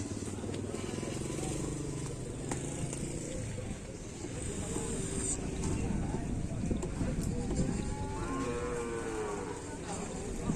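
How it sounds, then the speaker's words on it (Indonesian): Cattle mooing at a bull race (karapan sapi) training session on an open field in Asemanis, Pamekasan, with several drawn-out moos over a busy crowd din, talk and hoof clatter throughout. "sapi kecil dan sapi besar guys"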